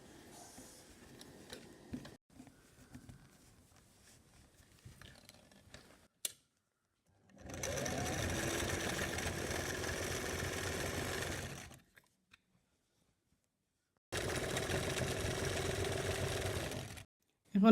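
A sewing machine stitches a finishing seam on a cigarette trouser in two sustained runs of a steady mechanical whir, separated by silence, after a stretch of quiet handling noises.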